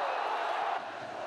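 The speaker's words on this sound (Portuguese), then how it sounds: "Festa da torcida coxa branca" Coritiba supporters roar in a stadium after their side opens the scoring, a dense, steady crowd cheer that dips slightly in volume partway through this brief moment.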